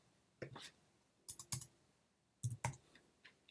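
Sharp mouse clicks on a computer while adding slides, arriving in a few quick bursts of one to three clicks separated by short pauses, close and fairly quiet, with no speech.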